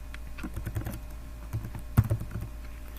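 Password being typed on a computer keyboard for a remote SQL Server connection, with irregular close key clicks and a sharper tap near the end, no voices.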